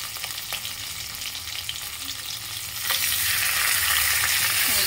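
Whole fish fry in a pan over a low gas flame, a steady close sizzle with light stirring scrapes that swells into a louder, denser crackle partway through.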